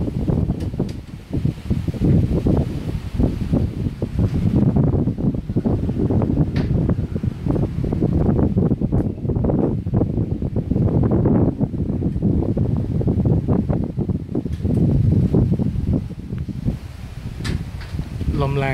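Strong wind gusts across a suspension bridge in Tha Wang Pha district, Nan, Thailand, producing a loud, continuous low roar and buffeting on the microphone that rises and falls for the whole stretch.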